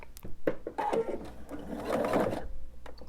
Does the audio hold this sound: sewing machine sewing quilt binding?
yes